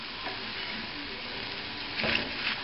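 Spinach, eggs and cheese sizzle steadily in a frying pan over lowered heat, a close, even crackle with a brief stir or scrape near the end.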